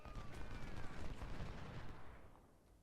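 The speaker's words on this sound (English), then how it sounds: "they're shooting at the general" Dense volleys of musket and cannon fire from a Civil War battle in the strategy game Ultimate General: Civil War, a loud continuous rolling crackle that fades out toward the end.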